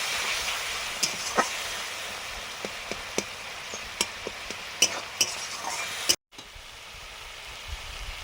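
Spices with a little water, including lightly fried ground cumin, being stirred and fried in a pan for a chital fish dish, a steady soft sizzle broken by sharp clicks and scrapes of the spoon against the pan.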